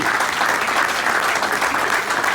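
An audience applauds the engineers at the inauguration of VALOHÉ, a waste recovery unit in western Hérault, with steady, dense clapping that holds at an even level throughout.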